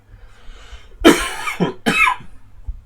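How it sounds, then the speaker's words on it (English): Two harsh, dry coughs in quick succession, loud and close, following a quiet stretch with a low electrical hum. "Dry cough."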